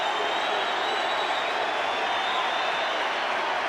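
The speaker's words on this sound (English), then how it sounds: "And the crowd love it" A stadium crowd at a 1988 rugby league match between the Broncos and Sea Eagles roars and applauds after a try, a steady, unbroken wall of cheering noise.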